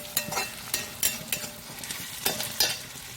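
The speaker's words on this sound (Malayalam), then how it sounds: "സവാള നല്ലതായി മൂത്ത് വന്നിട്ടുണ്ട്" Sliced onions frying with a little salt in a pan, a spatula scraping and tapping in quick repeated strokes over a quiet sizzle, close and alone.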